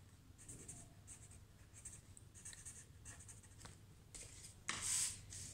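Pencil or crayon drawing and coloring on paper for a kids' totem pole art project, close light scratchy strokes in short bursts, ending with a brief louder rustle of paper.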